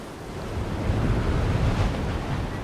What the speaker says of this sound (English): That water is loud.